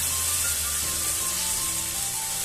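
Onions frying with ginger garlic paste in a pan for a taro root side dish, a steady close sizzle with no talking.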